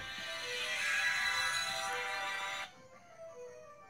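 A mobile phone rings during a Twilight Princess gaming session: a bright, steady electronic ringtone that plays loudly for under three seconds, then cuts off abruptly, leaving faint tones and quiet background.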